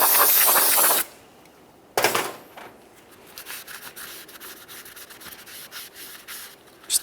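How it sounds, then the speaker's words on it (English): Cleaning rust and debris off the back of a brake rotor on a 2012-2015 Honda Civic during a rear wheel bearing job: a loud hissing spray burst, then close, rhythmic rubbing and scrubbing strokes. "clean the backside of our brake rotor along the area where the brand new wheel bearing is going to sit"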